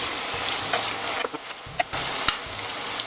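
Veal roast in a hot pan with Armagnac, sizzling and crackling steadily up close, with small stirring clicks and a few sharper pops over the frying hiss.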